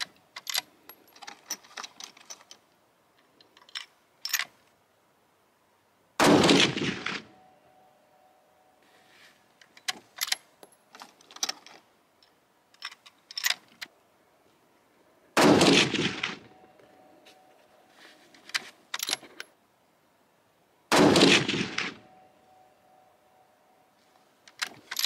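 Rifle shots from a budget long-range rifle being zeroed, three loud sharp cracks spaced several seconds apart, with quieter handling clicks and rustle between them and no talking.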